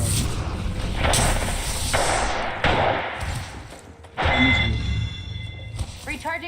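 A grenade is thrown in a shooter video game, bringing a series of sharp thuds and crashing impacts with a burst of blast noise partway through, mixed with other game effects and a voice.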